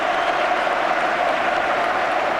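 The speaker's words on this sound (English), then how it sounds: "to a rapturous round of applause from the United supporters" Manchester United supporters applaud Ronaldo as he is substituted during an FA Cup semi-final against Arsenal, a dense, steady wash of crowd clapping filling a stadium without pause.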